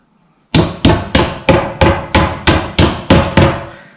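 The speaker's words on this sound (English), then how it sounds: "we're going to put them through the holes and we're going to tap them in" Plastic screws for an Ikea Malm chest of drawers are tapped into their holes: ten sharp, evenly spaced knocks after a short quiet pause, each loud and close with a quick decay.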